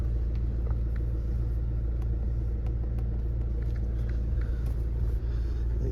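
Diesel engine of a Mercedes-Benz C200d, a 1.6-litre C-Class Sport saloon, idling as a steady low rumble that holds even and unchanging throughout, with no talk over it.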